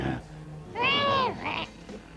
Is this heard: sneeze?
no